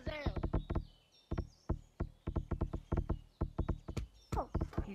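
Horse hooves clop in quick irregular bursts of sharp knocks in a GTA video game, close and loud, with a short whinny-like squeal and a pause or two between runs.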